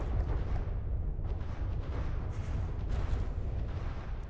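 A large ship cannon in a ship building game fires with deep, rumbling booms, a dense low roar rolling continuously through the clip with a few sharper bursts at the top, loud and close.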